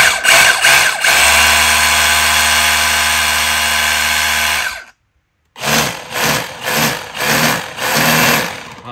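A Milwaukee concrete rotary hammer drill runs loud and close with a steady motor whine, cuts out briefly, then revs again in a series of rhythmic bursts.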